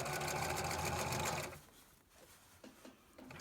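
A sewing machine runs steadily while stitching a fabric face mask, a loud continuous whirring for about one and a half seconds that then stops, leaving quiet rustling and faint handling noises.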